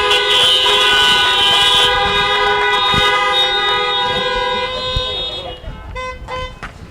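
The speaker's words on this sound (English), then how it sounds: "Honk if you love the Lord." Car horns honking at a rally on police reform, several sustained toots overlapping loudly near the listener, then thinning into shorter, scattered blasts toward the end.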